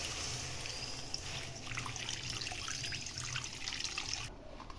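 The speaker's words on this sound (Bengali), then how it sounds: "যেহেতু ম্যাগিটা সুপি বানাবো সেই জন্য পরিমাণ মতো জল দিয়ে নেব" Water pours steadily into a pot for soupy Maggi noodles, a constant close splashing rush that continues almost without change and cuts off near the end.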